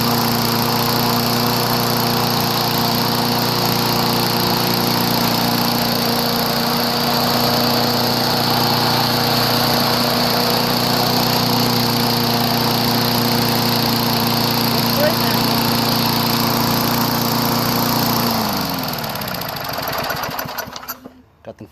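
A Tecumseh engine on an old self-propelled lawn mower runs steadily with its repaired muffler, a loud, even drone held for about nineteen seconds before it cuts off and winds down.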